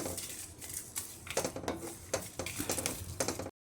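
Peanuts, Byadgi chillies and coconut dry-roasting in a pan, heard as repeated metallic scraping and clinking of a spatula against the pan in uneven bursts, with a faint sizzle underneath.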